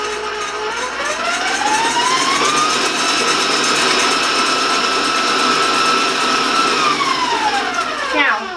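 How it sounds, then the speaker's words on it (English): An electric mixer whips vanilla almond buttercream frosting made with powdered sugar, a loud continuous motor whine close by that rises in pitch as it speeds up, holds steady, then winds down at the end. "Depending on whatever you're using, a stand-up or a hand mixer, just make sure that you smooth it out as best as you can"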